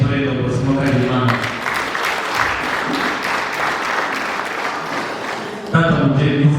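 A crowd applauds an intore dancer at a traditional Rwandan dance performance, a loud, dense burst of clapping in the middle, with a voice speaking just before and after.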